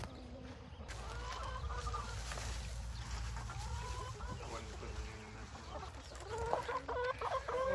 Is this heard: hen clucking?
yes